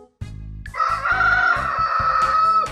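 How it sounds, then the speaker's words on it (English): A rooster crows a loud, sustained cock-a-doodle-doo, rising after a short opening call and holding its strained note to the end, close and clear with no talk over it. "A rooster makes a cock-a-doodle-doo sound."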